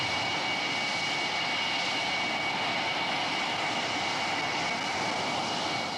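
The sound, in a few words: jet aircraft touching down and taxiing in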